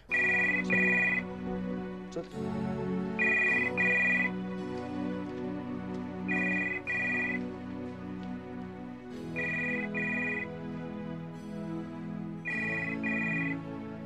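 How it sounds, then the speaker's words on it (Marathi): A telephone rings in repeated bursts of two electronic tones, each pair followed by a pause, with a steady melodic tone underneath and no speech. "फोन वाजतोय."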